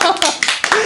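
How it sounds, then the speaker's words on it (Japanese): A family claps hands together in a hotel room, a few short, sharp bursts of clapping spread over under a second, with voices around them. "この案に同意の方は拍手を持ってお願いします"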